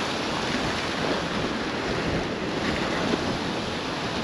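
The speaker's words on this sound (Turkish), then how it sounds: "Baksana tüm ne kadar çok dalga var." Sea waves break against the shore at a Greek seaside town near a campsite, a continuous loud broadband roar of surf mixed with wind buffeting the microphone, with no voices.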